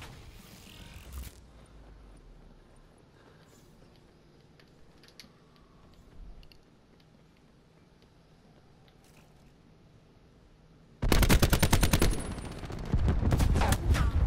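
Gunfire in Call of Duty: Black Ops 4, a loud burst of rapid shots erupting suddenly near the end after a long quiet stretch, with a brief sharp crack at the very start.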